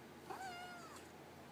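A pet cat gives a single short, quiet meow in a calm room indoors, brief and clear over faint background hiss.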